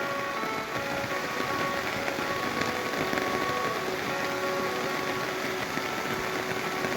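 Heavy rain pours in a dense, steady hiss across the whole stretch, with a low engine hum underneath and no voices.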